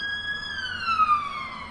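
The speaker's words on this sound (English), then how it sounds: "As clearly the sirens come whizzing by." A police van siren wails past in a steady, falling tone, fairly close and moderately loud, heard alone with no voices.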